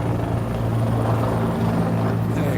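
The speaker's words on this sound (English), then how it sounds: "Just these humongous helicopters flying above." Large helicopters flying overhead in the capital on a day of heavy dignitary and media presence, a loud continuous rotor thrum holding steady and close throughout.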